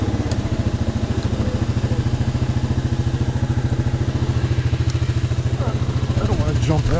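A 2021 Yamaha Grizzly 700 SE ATV engine thumps steadily at low revs while riding a wooded trail, a close, loud, even putter throughout that roughens slightly near the end.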